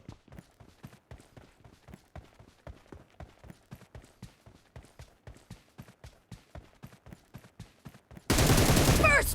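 Rapid bursts of gunfire from a mobile team deathmatch shooter crack out in a steady rhythm, shot after shot for several seconds, before a sudden loud blast of noise takes over at the end.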